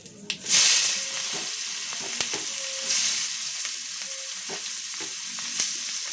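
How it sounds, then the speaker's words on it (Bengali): Chopped onion sizzles in hot oil for an egg and potato curry, a loud, steady frying hiss with periodic scrapes and taps of a spatula stirring, and no one talking. "সুন্দর করে লাল লাল করে আমি ভাজা করে নেব পেঁয়াজটা।"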